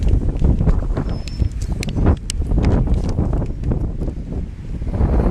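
Strong gusty wind buffets the microphone with loud rumbling noise and scattered rustling, continuous throughout.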